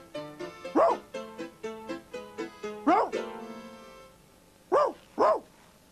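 A dog barks several times over a stepping musical backing, then two sharper, louder barks ring out alone after a brief lull.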